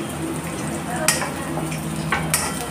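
Onion frying on a low flame with curry leaves and red chili in a pan, a soft steady sizzle with a few sharp scrapes of a spoon stirring, while someone speaks quietly.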